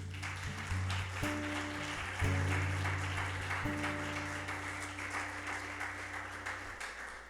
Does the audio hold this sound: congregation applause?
yes